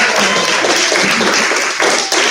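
An audience at a high school performing arts banquet gives a round of applause, a loud, continuous wash of many hands clapping that carries on steadily.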